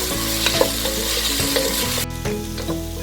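Ground masala is stirred into tomatoes frying in a pan for a coconut milk chicken curry, with a steady close sizzle and the rhythmic scrape of a spoon, no voices.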